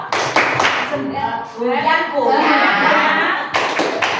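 A group claps the "tepuk jempol" rhythm at an Indonesian regional-language and literature training session, with brisk patterned claps under continuous talk and chatter throughout.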